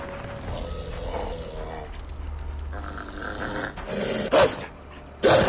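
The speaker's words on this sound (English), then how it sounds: "I hate killing dogs in any video game." Dogs in the video game Assassin's Creed 3 growl low and menacingly, mixed with game combat noise and a couple of loud sudden hits.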